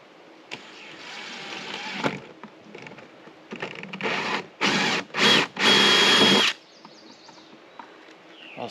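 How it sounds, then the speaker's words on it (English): A power drill whirs in several short bursts, then runs in two longer, loud, steady pulls with brief pauses between, close by and with no talking. "So I'm going to drill a hole, and then we're going to seal the hole"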